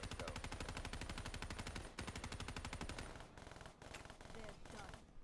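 Rapid automatic gunfire from a high fire rate gun in the Black Ops 3 video game, a dense, loud, continuous stream of shots that barely pauses for about five seconds, with a few brief gaps near the end.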